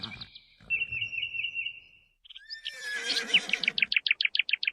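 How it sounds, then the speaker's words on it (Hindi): A horse neighs loudly and close, a long high whinny that rises and then breaks into a rapid, shuddering series of pulses at the end, with no voices. "घोड़े ने अपने स्वामी के पांव की चाप पहचान ली और जोर से हिनहिनाया।"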